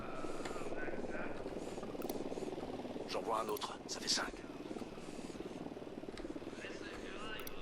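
A surveillance drone in the video game Ghost Recon Wildlands hovers with a steady buzzing whir throughout, running under someone speaking French.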